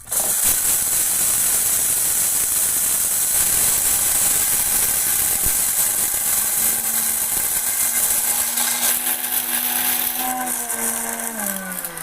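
Atomberg MG 1 mixer grinder running at slow speed, a loud continuous close whirring grind with rattling contents, the motor tone rising slightly toward the end.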